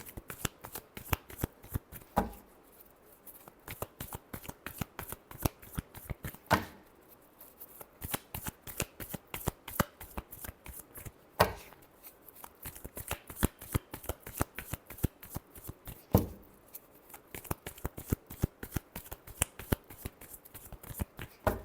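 Tarot cards are shuffled by hand in quick, crisp riffling bursts of snapping flutters, with brief pauses between bursts, close and fairly loud with no other sounds.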